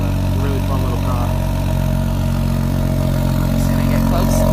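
A small car idles with its exhaust in sport mode, giving a steady, loud, close rumble that holds for the whole stretch with no speech.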